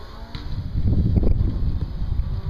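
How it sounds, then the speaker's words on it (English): Gusty outdoor wind buffets the microphone in a low, rumbling roar that swells and stays strong while a small WLToys V939 quadcopter flies. "It's really windy, and so this thing is fighting the wind."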